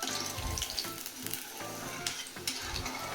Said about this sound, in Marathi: आपण आता आपले जे मिनी फ्लावर समोसाज आहे त्यांना फ्राय करून घेऊया.